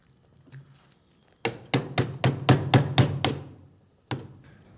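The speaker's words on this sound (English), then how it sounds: "Insert the shorter square key into the keyway in the shaft. Tap into place with a punch." A short square key driven into the shaft keyway of a Kimray lever-operated dump valve with a punch: eight rapid, evenly spaced metallic taps up close, then a single final tap after a pause.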